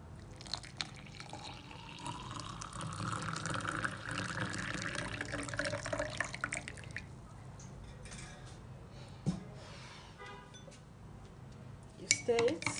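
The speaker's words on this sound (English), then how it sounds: "then you add your hot water" Hot water is poured into a homemade fat-burning weight-loss drink, with a rising filling tone over the first few seconds, then fainter drips, splashes and a light clink nearby.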